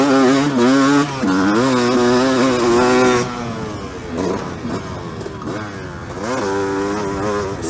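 A Suzuki dirt bike fitted with a Lectron Pro Series carburetor revs hard at wide open throttle. The engine note is loud and close, and it rises and falls in pitch with a brief dip partway through.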